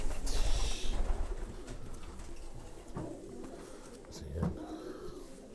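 Low, soft coos from racing pigeons in a loft, including Hoymans, come in intermittent bursts alongside bumps and rustling, with people talking nearby.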